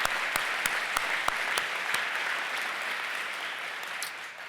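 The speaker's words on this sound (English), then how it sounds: "Give yourself a round of applause." An audience applauds at a community event, a dense, steady wash of clapping with a few sharp individual claps early on, gradually easing toward the end.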